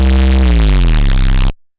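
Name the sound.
distorted synthesizer neuro bass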